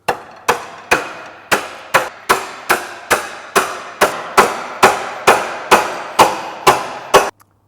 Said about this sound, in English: we knock through with a hammer until the new rod is equidistant from the